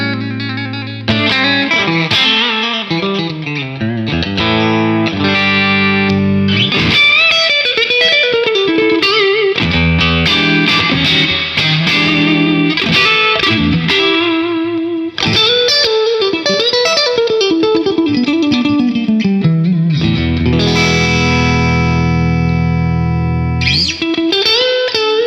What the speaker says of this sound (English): Yes, that's the reverb.